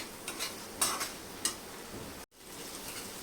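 Sprouted whole masoor lentil curry stirred in a pan with fresh coriander, a faint steady simmer broken by a few soft spoon scrapes and taps, close by with no voices, cutting out briefly before resuming.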